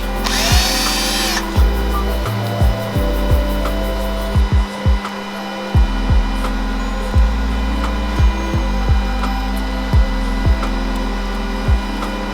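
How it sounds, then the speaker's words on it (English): A drill bit taps threads for M6 Allen bolts during a Ford Raptor audio install, loud close motor whirring in repeated short bursts with sharp spin-ups and stops, a high whine at the start. "we're going to use a drill bit that taps the threads into place"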